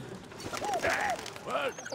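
A pigeon coos in the video game Valiant Hearts, a few soft rising-and-falling warbles close up, with faint game ambience underneath and no talk.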